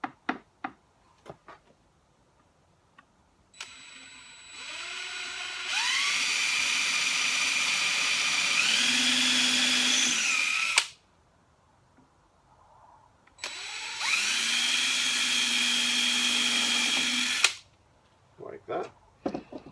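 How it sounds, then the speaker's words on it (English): A power drill pre-drills holes in wood on a workbench, whirring in two long bursts of several seconds each with quiet gaps and light handling clicks around them. "We're going to take our drill and we're going to pre-drill our holes."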